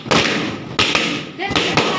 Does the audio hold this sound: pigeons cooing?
no